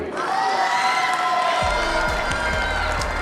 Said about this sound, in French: Please, ladies and gentlemen, a big applause for our friend from Italy